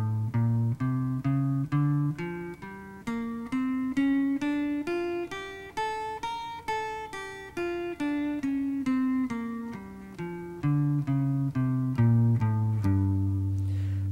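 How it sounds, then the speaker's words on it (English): Guitar picks out a blues scale one note at a time, climbing steadily up and then back down in an even rhythm, each plucked note ringing clearly with no talking over it. "The blues scale looks like this and sounds like this."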